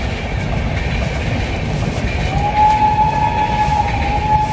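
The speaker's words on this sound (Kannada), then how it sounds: "ಅವಾಗ ಬಂದಿದ್ದ ಸೌಂಡ್ ಇದು ಟ್ರೈನ್ ಬರ" A train passing on a railway makes a steady, fairly loud rumble, and a thin metallic wheel squeal rises and holds through the second half.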